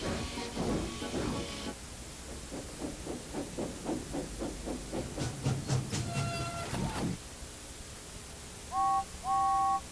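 A steam train, the Express, chuffs along with its coaches in a cartoon setting, loud rhythmic puffs and rolling clatter with hissing steam and a couple of clear whistle toots near the end.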